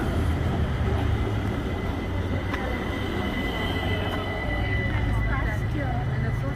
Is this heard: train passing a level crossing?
yes